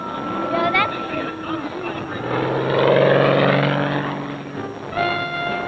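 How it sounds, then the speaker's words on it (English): Art Scholl's stunt plane tumbling end over end at an airshow, its propeller engine droning and surging in pitch as it plunges, loud and steady with a swell in the middle of the maneuver. "Art forces the plane to tumble end over end as it plunges to the ground."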